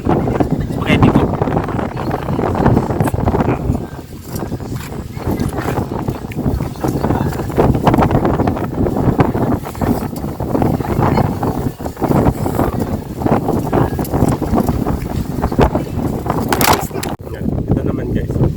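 Strong seaside wind at Malagundi Point buffets the microphone in loud, rumbling gusts that rise and fall throughout, with people talking underneath.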